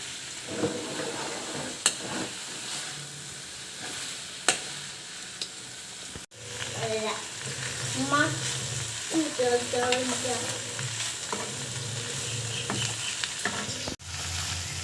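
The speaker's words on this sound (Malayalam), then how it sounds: "ചെറുതായൊക്കെ വെന്ത് വന്നിട്ട് നമ്മൾ ഒന്നും കൂടി വഴറ്റി കൊടുക്കണം നന്നായിട്ട്" Ladies finger (okra) stir-fry sautéing in a pan, with a steady close sizzle and repeated scraping, stirring strokes of a spatula, plus a few sharp knocks against the pan.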